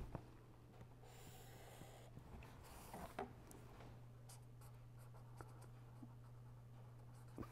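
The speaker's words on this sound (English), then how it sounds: "So, first let us write down." Pen writing notes during a lecture, faint scratchy strokes in short irregular bursts over a steady low electrical hum, with some soft breathing close by.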